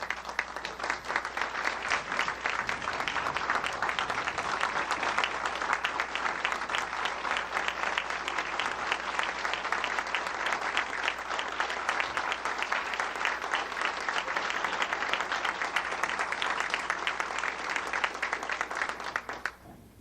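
Long, steady round of applause from the audience at a 1992 Good Guy Award ceremony for two honorees, a dense continuous clatter of many hands that holds level throughout before cutting off at the end.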